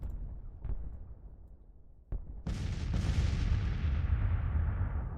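Artillery guns firing in the Grand Tactician: The Civil War strategy game: a few distant single booms, then a heavy sustained barrage of cannon fire that rumbles on.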